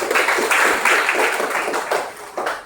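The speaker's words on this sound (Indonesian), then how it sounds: "Oke, tepuk tangan kita" Group of trainee facilitators clapping together during an Indonesian training session, a rhythmic burst of claps with regular accents, fairly close and steady for a few seconds.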